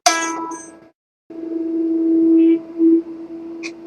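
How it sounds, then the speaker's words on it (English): A single electric guitar note fades in smoothly as a volume swell and sustains, with faint delayed repeats trailing after a short initial plucked tone. "with a lot of delay, I'm picking the note and swelling the volume in"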